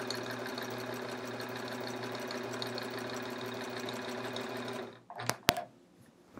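A sewing machine fitted with a walking foot quilts a chevron quilt, running in a steady fast whirr for about five seconds before stopping, followed by a few sharp clicks and handling noises.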